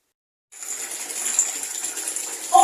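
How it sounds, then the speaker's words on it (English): Hot water gushes from a tap into a bath, starting abruptly and then running as a steady, close, full rush of water with no talking. "Put out the tap and it's hot. We're running the bath."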